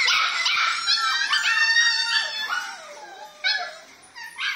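Litter of 50-day-old Phu Quoc puppies whimpering and yipping in overlapping high, wavering cries, close and continuous, with no talk.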